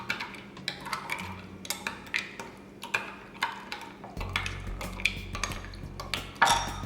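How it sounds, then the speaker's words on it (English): Bulgogi burger ingredients being mixed in a bowl, a utensil tapping and clinking against the bowl in an irregular rhythm of sharp ticks, close and fairly quiet with no talking. "After everything's in here, we're going to give it a good mix."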